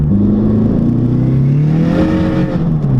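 A big-turbo Saab 9-3 Viggen engine revs hard and loud up close as the front wheels spin, the pitch rising, dipping and climbing again over a few seconds.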